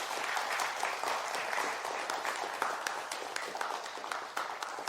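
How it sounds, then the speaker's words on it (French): An audience at an award ceremony gives steady, sustained applause as a prize winner comes up on stage, a continuous wash of many hands clapping at even loudness. "Applaudissons-le chaleureusement."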